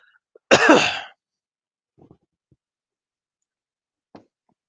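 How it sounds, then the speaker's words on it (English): A single loud, harsh cough close to the microphone, followed by a few faint clicks and soft rustles in otherwise quiet surroundings. "I'm sorry if I coughed into the mic."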